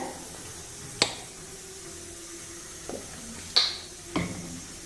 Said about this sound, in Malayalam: നന്നായിട്ട് ഇളക്കണം ഇളക്കി യോജിപ്പിക്കണം